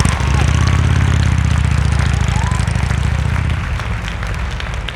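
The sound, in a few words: motorcycle engine running at low speed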